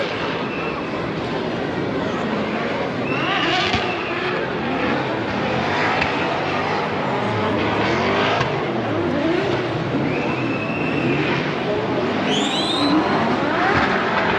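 Drift cars racing through a corner at Istanbul Park during a Turkish Drift Championship round, engines roaring and revving continuously at a distance over a steady crowd-and-track din, with faint talk in the background.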